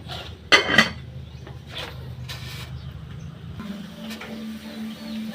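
A metal lid is set onto a cooking pot of mongo stew, giving a brief clatter and a few clinks of pots and utensils, followed by a steady low kitchen hum.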